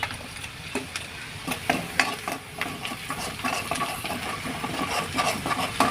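Red chilli powder and spice masala frying in hot oil for an egg fry masala, stirred in the pan: continuous soft sizzling under repeated scraping and clinking of a spoon, close and steady, with no talking.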